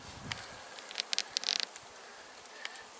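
Honey bees buzz around an open hive during a queen check, a steady close hum with brief louder bursts as individual bees pass near.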